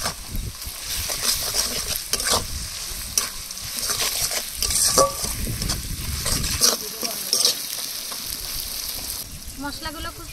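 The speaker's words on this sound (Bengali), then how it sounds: "আদা আর রসুন বাটা দিয়ে এবার একসাথে কষিয়ে নেব।" Spices are sautéed with ginger and garlic paste in a pan for duck curry, with continuous sizzling and scraping stirring strokes that rise and fall close by.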